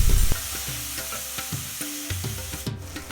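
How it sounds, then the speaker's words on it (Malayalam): Spices and chopped tomato sautéing in a pan for vegetable kurma: a steady frying sizzle with repeated clinks and scrapes of a spoon stirring against the pan, close by and with no voices. "ഇതിലേക്ക് ഒരു തക്കാളി അരിഞ്ഞതും ചേർത്ത് ഒന്നുകൂടെ വഴറ്റിയെടുക്കാം."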